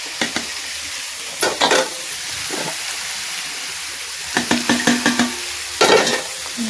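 Bora beans with potatoes and chickpeas sizzle in a pan while a spoon stirs them in short bursts of scraping and clatter over a steady frying hiss.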